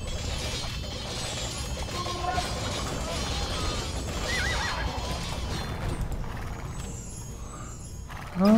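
In Age of Empires II: Definitive Edition, a horse whinnies amid hoof clip-clops and dense battle noise, a steady wash of clashing game sounds at moderate loudness.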